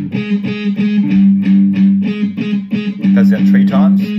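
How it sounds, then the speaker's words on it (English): Palm-muted riff played on a 3-string cigar box guitar with distorted tone; chugging muted notes repeat in a steady rhythm, loud and close, ending with bent higher notes. "just resting my palm on the strings just to get that muted sound"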